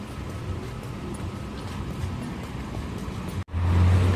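Road traffic heard from inside a moving car: a steady low engine and road rumble with a brief dropout, then a louder surge of motor noise near the end, and no talk.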